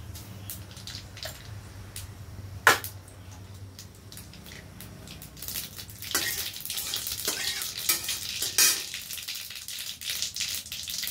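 Dried red chillies, cumin and mustard seeds tempering in hot oil: a sharp clatter as the spices drop in, then a rising crackling sizzle with small pops, close and fairly quiet, no speech.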